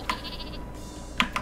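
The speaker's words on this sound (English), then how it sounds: "This is not the sheep, but it's the super sheep." Super sheep weapon in a chaotic artillery video game, bleating in short electronic bursts near the start, then a brief pair of sharp bleats near the end over a steady game background hum.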